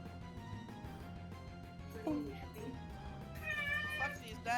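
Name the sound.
cat meowing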